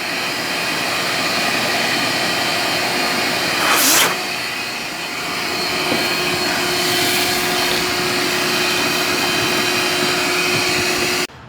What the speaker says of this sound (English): So we got everything vacuumed out for the most part.